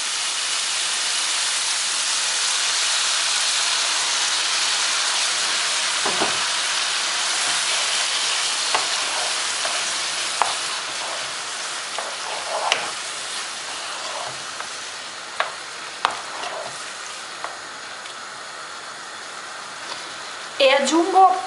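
Tomato added to a pan of zucchini and pancetta keeps up a steady bright sizzle and hiss, with scattered clinks and stirring taps, then a louder clatter at the end.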